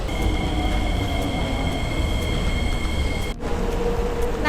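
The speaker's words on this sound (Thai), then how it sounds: "รถไฟมานะคะ" A Singapore metro train rumbles loudly nearby with steady rail noise and high metallic squeals as it rolls into a station.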